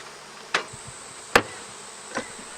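Honey bees hum around beehives in the open, a steady high whine under three sharp knocking thuds spaced about a second apart, close by.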